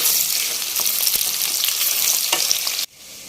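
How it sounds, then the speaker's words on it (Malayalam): Ginger, garlic and green chillies sauté in a pan for Kerala-style beef pickle, with a dense close sizzle and scraping stirs that cut off abruptly near the end. "ഇതിൻ്റെ പച്ചമണം ഒന്ന് മാറുന്നത് വരെ നന്നായിട്ട് വഴറ്റിയെടുക്കാവേ"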